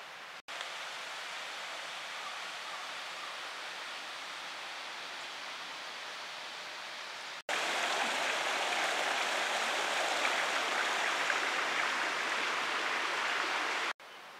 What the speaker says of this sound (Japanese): 右に川が流れています。